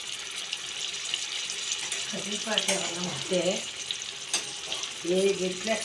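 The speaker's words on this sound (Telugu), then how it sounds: "ఇది ఉల్లిపాయ పేస్ట్ వేసుకోవాలి ఆ నూనెలో" Onion paste sizzling in hot oil for an okra curry, a steady close frying hiss with occasional stirring while voices talk over it.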